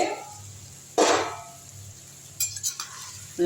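Quail pieces being sautéed in a pan for a quail fry, with a spoon scraping and stirring in short bursts, one loud scrape at the start and a few clinks later, with a soft sizzle underneath.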